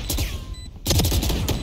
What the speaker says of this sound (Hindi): शॉटगन से पेल